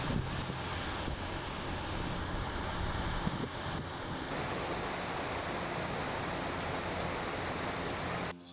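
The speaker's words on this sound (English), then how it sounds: "There's no shortage of waterfalls along this wet and rocky coastline." A waterfall on a wet, rocky coastline gives off a steady, broadband rushing roar that stays even and fairly distant throughout, with no voices.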